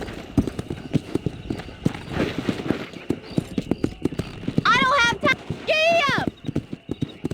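Horses gallop in the Western video game Red Dead Redemption, with steady, rapid hoofbeats throughout and a loud whinny rising over them partway through.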